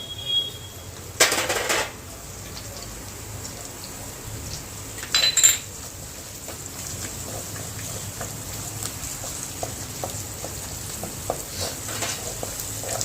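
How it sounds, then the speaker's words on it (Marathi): Carrots stir-fried with ginger and garlic in a pan for quick semiya, a soft continuous sizzle under occasional scraping stirs and two louder utensil clatters, moderately near and without speech. "गाजर इथं चांगले फ्राय करून घेऊयात"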